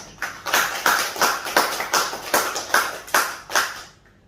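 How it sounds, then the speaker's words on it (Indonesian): A short burst of clapping with about nine steady, evenly spaced claps, fairly close, fading out at the end. "Tepuk tangan."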